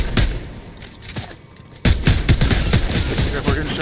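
Video game gunfire erupts in bursts of sharp shots, starting with scattered reports and then a loud, rapid volley in the second half, close and dense.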